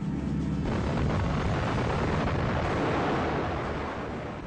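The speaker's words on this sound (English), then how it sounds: "From a great altitude, we see the atomic explosion." Atomic bomb explosion over Nagasaki seen from high altitude: a continuous, loud, dense roar and rumble sustained throughout, slowly fading at the end, with no voices.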